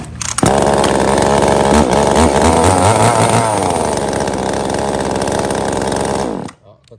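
A German or Japanese chainsaw engine starts and runs loud and close, a steady buzzing roar with revving shifts for about six seconds before cutting off to near silence.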